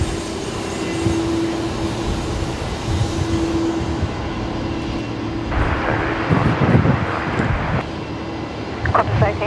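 An Airbus A330 taxiing at Brisbane airport gives a low, steady engine rumble with a whining tone early on. A harsher burst of noise rises midway, and people talk over it at times.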